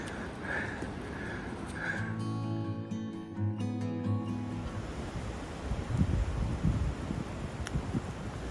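Strong wind gusting during a spring forest hike in Big South Fork as a front moves through, a broad roaring rush that swells and fades, with a steady engine-like drone in the middle.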